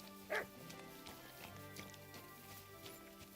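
Dog in the video game Kingdom Come Deliverance 2 gives a single short, sharp bark near the start, followed by quiet game ambience and low background tones.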